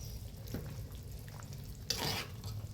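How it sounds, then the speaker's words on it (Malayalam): Stingray curry simmers in a pot while a spoon stirs through it, a steady close bubbling hiss broken by a couple of brief scraping stirs, with no voices. "എവിടം വരെയായി തിളച്ച് നോക്കട്ടെ."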